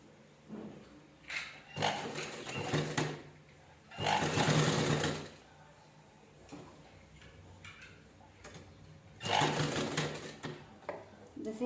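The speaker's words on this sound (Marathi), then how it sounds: "त्याच्यावर आपण स्टिच करून घेणार आहोत" A sewing machine stitching a blouse runs in several short bursts of rapid whirring and ticking, close and fairly quiet, with pauses between runs and a voice speaking softly in the gaps.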